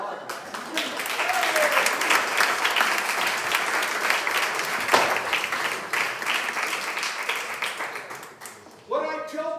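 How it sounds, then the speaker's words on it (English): A round of applause from an audience, dense sustained clapping that swells and then fades, with a voice speaking at the end as it dies down. "Give him a round of applause."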